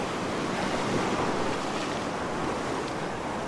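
Ocean surf surging and crashing over rocks on the coast at Currumbin, Queensland, a loud continuous wash of breaking water with wind noise and no talk.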